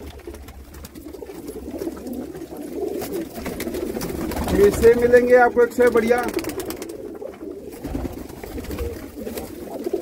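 Pigeons at a market sale in Jammu, including Rampuri and slate-grey birds, give soft rolling coos in the middle, under steady talk from a man selling them.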